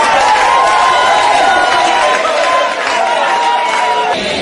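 A large crowd cheers and shouts in acclamation to welcome a politician, forming a loud, continuous, dense roar of many voices throughout.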